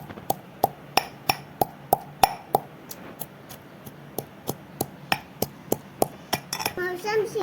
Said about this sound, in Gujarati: આપણે લસણ ને મરચા લીધા છે તો આપણે આમાં ખાંડી નાખશું